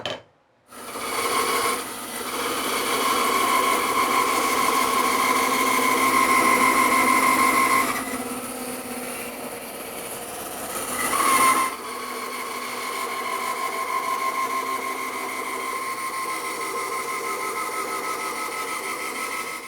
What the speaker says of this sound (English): I'm going to resaw this board down to do a bent lamination